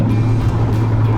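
A loud, steady engine drone close by from a 1990 Mazda MX-5 Mk1, a deep sustained growl without clear rising revs.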